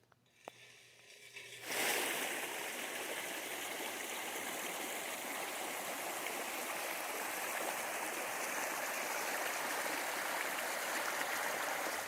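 Steady rushing and babbling of a creek flowing close by, starting after a brief quiet moment and continuing evenly without voices.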